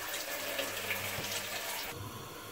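Water runs steadily into a pan of black rice, a continuous splashing pour that shifts in tone near the end as the level rises.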